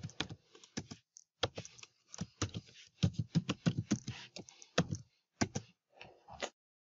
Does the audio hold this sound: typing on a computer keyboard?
yes